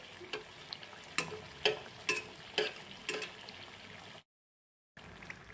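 Potato patties fry in a pan of oil, giving bursts of sizzling crackle and spitting that swell and fade in uneven waves, then break off briefly into silence before the frying sound resumes.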